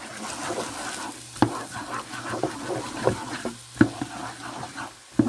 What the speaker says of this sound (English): Next is 2 eggs scrambled. And just stir that in.